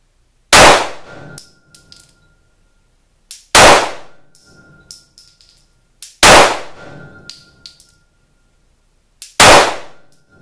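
Four sharp, loud Glock 17C pistol shots of Federal aluminum case ammunition at an outdoor range, evenly spaced about three seconds apart, each followed by a ringing metallic tail and faint clinks.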